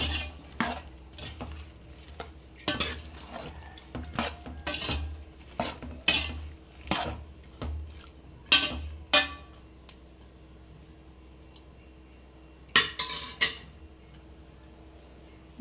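Metal spoon stirring cooked lentils into vegetables in a pot for sambar, a series of sharp clinks and scrapes against the pot, irregular and close, fading toward quieter stretches with a final cluster of clatter.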